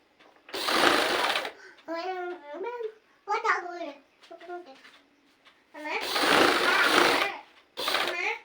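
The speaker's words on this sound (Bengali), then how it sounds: "এইভাবে আমরা প্রথমে একটা সেলাই দিয়ে নেব" A sewing machine stitching fabric for a dress for a baby of six months to one year runs in two quick loud bursts and a short third one, with a voice speaking in the pauses between.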